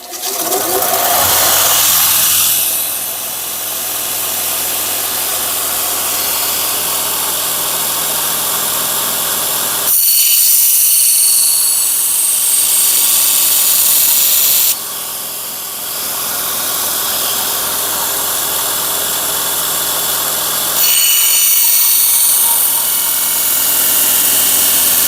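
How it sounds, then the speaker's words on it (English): A belt grinder sharpening the blade of a hewing hatchet, a loud, close mechanical whir and hiss that swells and eases in long passes, with sharper grinding bursts each time the steel meets the belt. "Manufacturers forever have been using grinders to sharpen their axes before they leave the factory."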